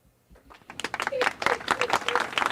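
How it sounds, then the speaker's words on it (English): A group of women cheers and claps, with scattered claps building into steady applause mixed with shouting voices. "These women are cheering."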